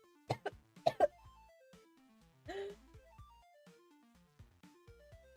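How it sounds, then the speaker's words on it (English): A person with pertussis (whooping cough) lets out a few sharp, harsh coughs in a quick cluster, then a longer raspy throat sound, close and fairly loud against a quiet background. "I have pertussis right now, which is a whooping cough"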